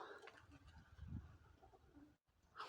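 Soft pigeon cooing, a low murmuring burst near the middle, heard faintly outdoors with a brief gap near the end.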